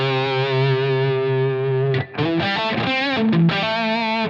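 Electric guitar through a Helix Kinky Boost pedal, a sustained distorted chord ringing for two seconds before a quick run of gritty single notes and a final held chord, loud and alone.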